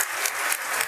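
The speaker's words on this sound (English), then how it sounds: "So give yourselves a round of applause" A crowd applauds at a live ESPN First Take broadcast in New York City, a steady wash of clapping for under a second with no voices.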